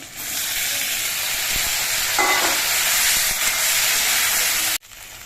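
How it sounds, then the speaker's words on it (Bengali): Taro and potatoes fry in a pan with a steady, loud sizzle and hiss throughout, a brief clatter of stirring partway through, for a light hilsa fish curry; the frying cuts off abruptly near the end. "কচুগুলোকে কিছুক্ষণ ভেজে নিতে হবে কচুগুলো আমি কিছুক্ষণ ভেজে নিয়েছি এবার এর মধ্যে আমি আলুগুলো দিয়ে দিচ্ছি"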